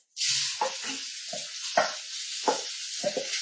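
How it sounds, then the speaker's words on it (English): Loud hissing sizzle of shrimp frying in hot oil, close up, with bursts of crackling and spattering pops throughout. "you hear that nice sizzle?"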